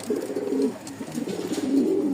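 Newly paired pigeons, silver females with males, coo in repeated throaty rolling phrases, close and clear, several overlapping calls rising and falling over about two seconds.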